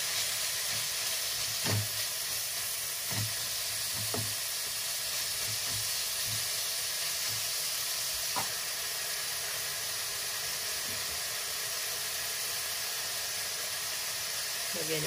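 Carrots sizzling in a frying pan, a constant bright hiss of frying with occasional soft clinks and stirring knocks throughout.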